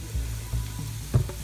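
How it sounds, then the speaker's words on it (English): Onions sizzling in a pan as they are stirred, a close steady fry with a few soft thumps of the spoon. "Stir until the onions become a little soft, a little golden."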